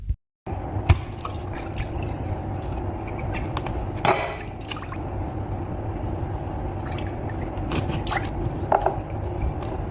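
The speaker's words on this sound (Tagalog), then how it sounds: "So, hugasan muna natin to, no?" Running water splashing and dripping as a main recipe ingredient is rinsed under it, a continuous close wash with occasional knocks and trickles, no speech.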